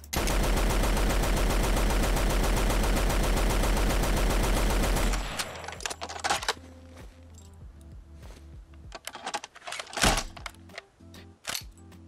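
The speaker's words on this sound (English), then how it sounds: "a custom reload animation" Lewis gun reload animation in a Fallout 4 mod: a loud, sustained burst of rapid automatic fire, then a sparse run of sharp metallic clacks and clicks from the reload, with quieter gaps between them.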